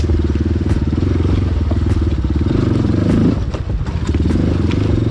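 A light, short-wheelbase motorcycle rides a rocky trail lined with bamboo. Its engine hums steadily and loudly throughout, with clattering and knocks from the rocks breaking through near the end.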